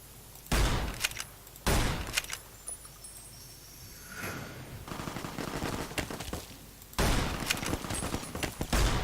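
Gunfire in the Fallout New Vegas video game, several loud sharp shots and bursts punctuating quieter stretches, with a busy flurry near the start and another near the end.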